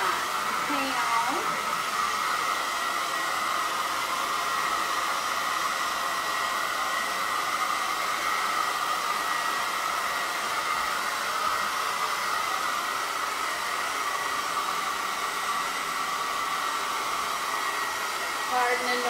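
A blow dryer runs steadily and loudly throughout, a continuous broadband whoosh used to dry paint on handmade gnomes, with no talk over it.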